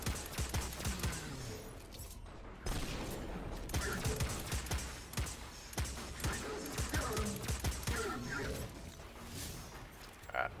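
Exotic hand cannon fired in the Destiny 2 closed beta on PS4: sharp gunshots in rapid bursts over busy game noise and mechanical clatter, with some talk mixed in.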